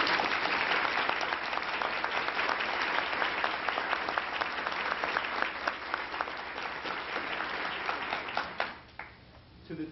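An audience at a judicial investiture ceremony for John Roll applauds steadily, a dense, fairly distant wash of clapping that holds evenly for about nine seconds before starting to fade.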